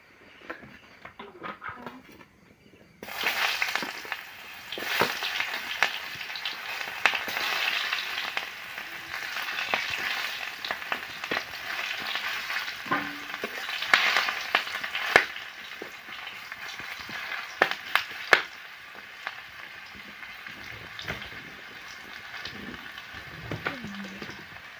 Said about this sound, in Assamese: এইফালে পলু ভাজিবৰ কাৰণে তেল দিছে